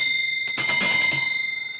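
A bell rung during a church conference plenary: one bright, sustained metallic tone with steady ringing overtones, struck once and held for over a second, loud and close with no talk.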